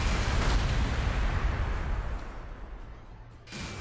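Overwatch gunfire from Astra Militarum troops in Warhammer 40,000: Gladius – Relics of War: a dense, rumbling burst of battle fire that thins out, then another short burst near the end, with no voices.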